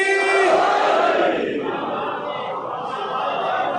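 A crowd of Shia mourners at a majlis shouts the Nara-e-Haidri together in a loud, massed chant. The chant swells at the start, then settles into a sustained roar of many voices.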